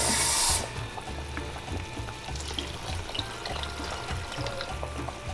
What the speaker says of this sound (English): she is going to mix the chile with water